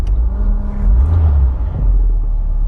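A Citroen BX Mk1 engine idles low and close from inside the car, with a deep rumble that swells in two gentle revs. No voices are heard.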